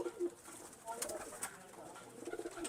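A pure Aseel pigeon coos softly in short repeated low calls, close by, with a few faint clicks and rustles around it and no talking.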